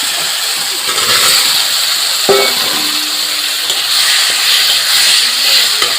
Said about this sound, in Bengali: একটু নাড়াচাড়া করে ভেজে রাখা আলুগুলো দিয়ে দেবো